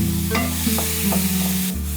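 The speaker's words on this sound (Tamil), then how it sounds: "இப்போ அதே எண்ணெயில் ஒரு 10 சின்ன வெங்காயம், ஒரு தக்காளி, இப்போ இது கூட கொஞ்சமாக உப்பு சேர்த்து வதக்கிக்கோங்க." Small shallots and tomato with a little salt sauté in hot oil, a steady close sizzle with a few soft spoon scrapes stirring through it, with no voices.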